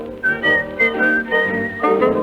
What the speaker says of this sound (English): This will make you whistle